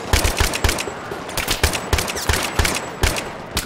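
Rapid machine gun bursts from the Battlefield 3 video game, loud and close, a dense rattling stream of shots with brief pauses between bursts.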